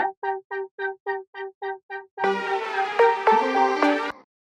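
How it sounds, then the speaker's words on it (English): A short run of evenly spaced synth stabs gives way to a sustained, high, wavering synth pad with shifting notes, clear and alone. "we have that wobble pad super, super high, so it sounds like this"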